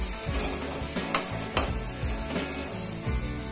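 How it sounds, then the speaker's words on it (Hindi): Ground spices go into a radish pickle frying on low heat, stirred with steady spoon scrapes against the pan in a regular rhythm over a soft continuous sizzle, two sharp clinks standing out. "अब इस टाइम पे हम जो मसाला हमने पीसे हैं उसे डाल देंगे। आंच को धीमी रख देंगे"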